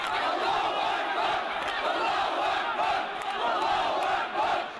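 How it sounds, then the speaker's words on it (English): Thousands of anti-Assad protesters roar and chant in a town centre as monitors arrive, a dense, loud, sustained crowd din with swelling waves and no pause. "Thousands of anti-Assad protesters. The crowd have gone absolutely wild now."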